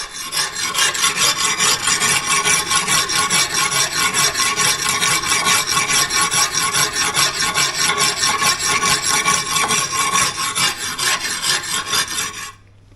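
A file rasps steadily across a blade being sharpened and smoothed, a close, loud, continuous back-and-forth scraping with an even rhythm that stops abruptly at the end.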